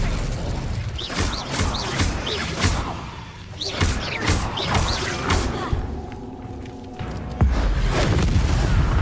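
Spells cast in the wizarding video game Hogwarts Legacy, including a disarming Expelliarmus charm: repeated whooshing swishes and booming impacts layered in busy game effects, with voices talking at times.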